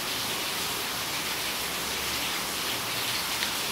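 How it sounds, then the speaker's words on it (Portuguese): Steady rain falls for several seconds as an even, hissing wash with no breaks and no voices. "A gente tá dormindo escutando o barulhinho da chuva"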